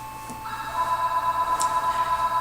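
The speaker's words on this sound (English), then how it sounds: "there's the phone again. I'm not going to answer it." A telephone rings indoors with a steady electronic tone, fairly close and sustained above a low background hum.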